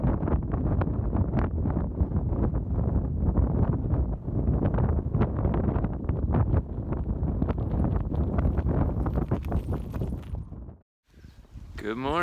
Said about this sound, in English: Just a final FU from the Iceland wind.